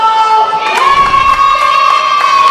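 Wrestling crowd at an independent show cheering loudly and steadily as a tag team is brought to ringside, a dense wash of voices with a few shouts rising above it.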